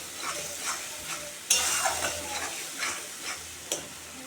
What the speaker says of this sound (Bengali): মশলাটা কষানো অলরেডি হয়ে গেছে